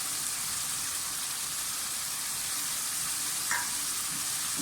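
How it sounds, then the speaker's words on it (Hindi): A masala mixed with yogurt fries in a pan, giving a constant close crackling sizzle like light rain, with one faint scrape of a spoon late on. "दही के साथ फ्राई कर लें इसको बना।"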